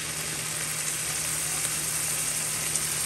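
Oil sizzling in a pan for Caribbean-style curry fish, a steady, loud, even hiss with no talk.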